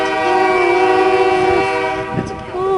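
A diesel-electric locomotive pulling an oil train sounds its horn, a loud sustained multi-tone blast close by, with train rumble underneath and a brief dip near the end.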